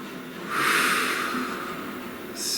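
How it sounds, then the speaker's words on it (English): A slow, deep breath drawn in and let out close to the mic in a quiet room, a soft airy rush that swells and then fades, with no talking. "Please take a nice deep breath."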